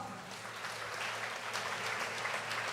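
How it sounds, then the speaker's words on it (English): Steady clapping from an audience at a school investiture ceremony, a dense continuous wash of many hands heard from a distance for a few seconds. "should we give them a good round of applause?"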